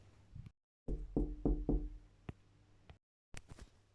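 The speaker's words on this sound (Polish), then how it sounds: "pukam." Knuckles knocking on a house door: a short run of four or five firm, evenly spaced raps, close and clear, followed by a few lighter isolated taps and a final cluster of knocks.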